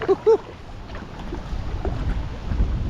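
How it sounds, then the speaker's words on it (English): Wind gusting along the River Ure at Boroughbridge near a weir, a low, rough buffeting that swells after a brief opening moment and stays broad and steady to the end. "Oh, this is a proper little wind funnel down here."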